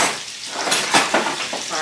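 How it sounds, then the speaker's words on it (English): Sausage sautéing in a skillet for a shrimp and sausage jambalaya gives loud close sizzling with short bursts of clatter and stirring, all within under two seconds. "So I'm going to get my sausage, get a little brown on it"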